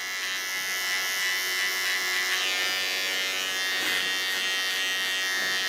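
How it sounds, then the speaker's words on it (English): A small electric hair clipper trims hair close by, giving a steady, high, even buzz that holds for several seconds with slight changes as it moves along the hairline. "With my small clipper, I clean this line, so I'm ready on this side."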